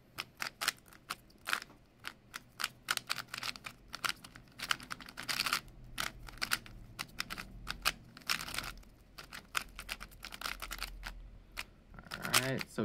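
A 3x3 Rubik's cube is twisted rapidly while being solved, bursts of crisp plastic clicks and rattling turns in quick irregular runs, close and fairly quiet.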